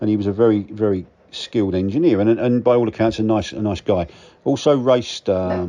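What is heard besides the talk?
No everyday noise stands out behind the speech.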